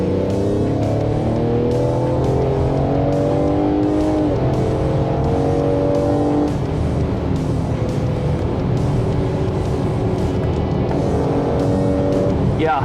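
A 2020 Ford Explorer ST accelerating hard from inside the cabin, engine revs climbing through gears with clear shift breaks, loud and continuous over road noise, with a voice talking over it.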